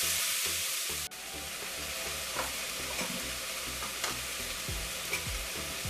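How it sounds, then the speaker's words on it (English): Onions and other ingredients for kheema karela gravy fry steadily in a pan, a continuous close sizzle with a few soft stirring scrapes and clicks, no voices. "we are just gonna fry a little bit. Okay, until the raw smell goes away and it gets transparent."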